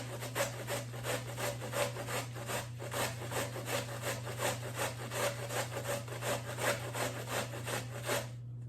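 Purple cabbage being grated by hand for coleslaw, a rhythmic series of close rasping strokes repeating about twice a second over a low steady hum, with no talking.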